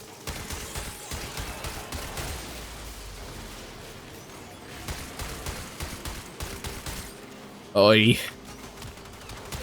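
Rapid gunfire from a suppressed secondary weapon in Warframe, sustained bursts of muffled shots under game effects and music, with a brief spoken exclamation and a sharp louder effect near the end.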